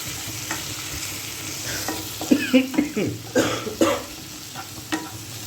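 Chicken pieces stir-fried with capsicum and soy sauce hiss close by in a pan, with bursts of scraping and clattering as the spatula stirs, and no speech over it.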